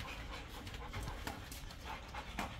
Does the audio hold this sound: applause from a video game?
no